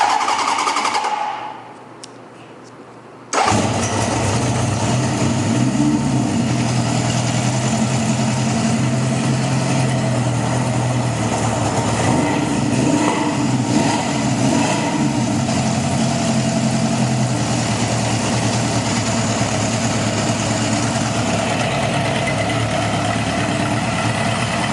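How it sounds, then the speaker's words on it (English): A 1975 Honda CB750 motorcycle engine catches on a cold start after a brief quiet moment, then settles into a steady, even idle that runs continuously up close with no talk. "Pipes are cold. We'll do a cold startup on it."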